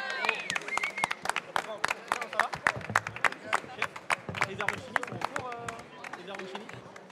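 An audience at a community anniversary event applauds, with dense, sustained clapping from many hands under a mix of voices and crowd noise.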